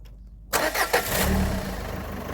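A 1.8-litre petrol car engine cranks briefly after a moment of silence, catches, and settles into a steady idle, close by.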